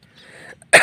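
A person gives a short, close cough with throat clearing, preceded by faint quiet sounds.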